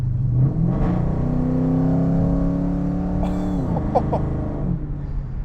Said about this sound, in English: that noise is because of a off-road H-pipe and mid-mounted pipes mufflers.